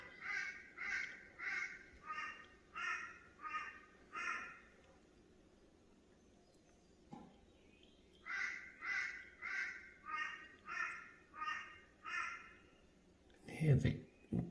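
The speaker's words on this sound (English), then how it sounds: "Hear the crows in the background." Crows call repeatedly at a bird bath on Cooroy Mountain in South-East Queensland, harsh evenly spaced caws in two runs separated by a quiet gap, moderately distant, followed by a louder close rustle at the end.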